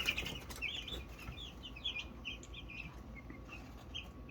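Barred Rock hens cluck and chatter softly in a coop, several birds making short, scattered calls over a low background rumble, fairly quiet and close.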